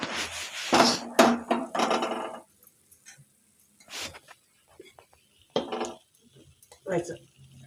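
A cooking pot holding fish curry is set down on a gas stove, giving a few metallic clanks and scrapes followed by scattered quieter knocks and pauses.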